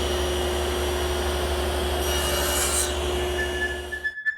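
A table saw cuts wooden tenons as the pieces are guided through with a miter gauge: a steady whining blade and motor hum with rasping wood contact, then the motor winds down and stops near the end.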